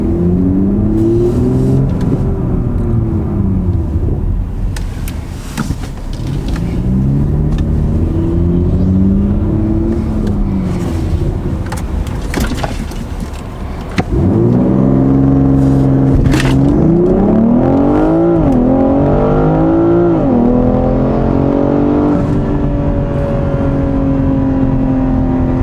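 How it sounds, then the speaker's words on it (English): BMW M440i with a CarBahn Stage 1 tune launching in Sport Plus with traction control off, the engine roaring loud and close as it climbs through the gears, each upshift marked by a brief dip before it pulls hard again. "I'm in Sport Plus mode, traction control off, and I'll do a launch."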